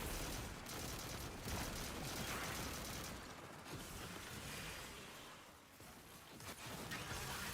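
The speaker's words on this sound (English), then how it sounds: "So I'm just gonna start shooting machine gun stuff." Sustained machine gun fire in the video game Destiny, a dense, rapid, continuous rattle of shots that stays loud and close for about seven seconds, with no talking.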